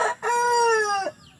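A chicken in a backyard flock gives one loud, close, drawn-out squawking call that lasts nearly a second, then stops, over a quiet background.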